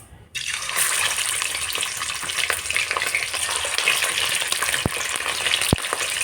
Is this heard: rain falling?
no